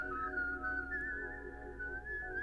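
A melodic whistled tune, a sample, carries a clear sustained line over a soft musical backing, steady and close throughout.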